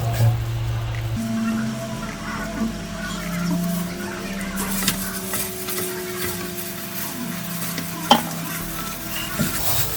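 Spaghetti stirred and tossed with oil in a hot pan, a continuous close sizzle with scraping of utensils against the pan and a sharp clack near the end, and a low hum running underneath.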